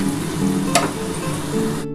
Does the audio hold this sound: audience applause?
no